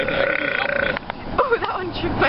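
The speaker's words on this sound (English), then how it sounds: "Apparently I have a large stomach, so I can burp really loud." A loud, drawn-out belch rumbles close up for about a second, then people react with talk and laughter right after.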